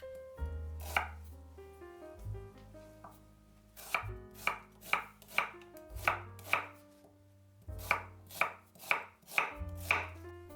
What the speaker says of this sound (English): Chop 2 onions.